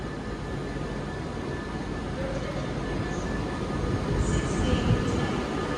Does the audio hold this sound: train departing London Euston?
yes